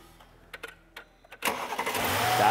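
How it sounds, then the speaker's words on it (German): A car engine cranks and catches after a few faint clicks, then settles into a steady, smooth, fairly quiet idle close by. "dann mach mal den Motor einmal an"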